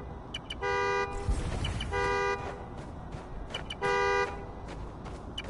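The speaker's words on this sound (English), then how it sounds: "The more annoying the horn gets, the closer I am." A car horn in the video game Spider-Man: Miles Morales honks in three short bursts spaced a second or so apart, moderately distant, over a soft background rumble.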